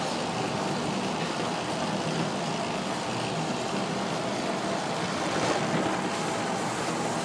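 Water pours steadily into the tub of a Mueller Super Pop washing machine, a dense, even rushing hiss that holds at constant volume throughout with no voices.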